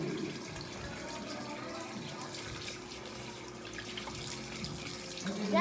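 Steady running tap water over a sink while dishes are washed, a continuous close splashing wash with faint clinks near the end.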